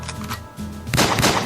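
Gunfire in the video game Mafia Wars comes as a short burst of rapid shots that grows denser and louder toward the end, with no talk over it.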